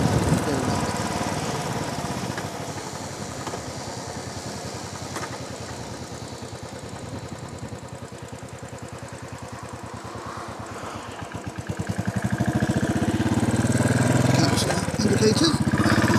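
A motorcycle engine runs while riding in the English countryside, a steady rumble with rhythmic pulsing that grows louder and rougher toward the end as it picks up, under wind noise.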